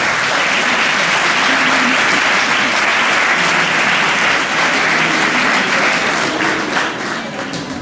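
Loud, sustained applause from a large audience at an introductory speech in Dijon, dense clapping filling the whole stretch without letting up.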